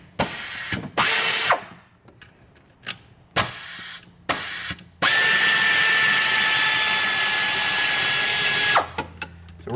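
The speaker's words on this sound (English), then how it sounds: "my air ratchet flipped itself back to the on position" An air ratchet whirs in short bursts and then a long steady high-pitched run while removing 10mm alternator bolts on a Ford Triton 4.6, 5.4 or 6.8 engine, loud and close, with no talking.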